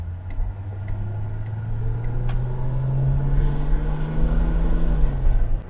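A 1980 Vauxhall Royale Coupe with a 2.8 litre carburetor engine accelerates, its engine note rising steadily in pitch with a low rumble, heard from inside the car with faint ticking.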